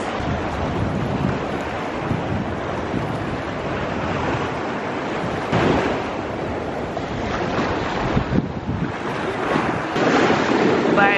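Sea waves breaking on a Barbados beach, a steady, loud wash of surf that rolls on continuously with a few swelling surges as waves crash and recede.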